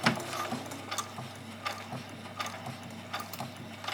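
A home sewing machine clatters and ticks mechanically while sewing fairy wings, a quiet, close series of uneven ratcheting clicks and knocks over a faint motor hum.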